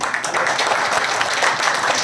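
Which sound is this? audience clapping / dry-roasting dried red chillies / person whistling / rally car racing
audience clapping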